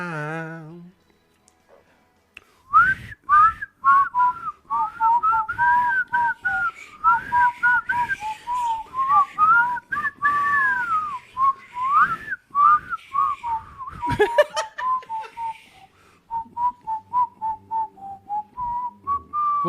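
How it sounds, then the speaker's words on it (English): A person whistles the whistling part of a song, a wavering tune rising and falling in short phrases with brief pauses, close and clear over quiet background. "Here's a whistling part coming up."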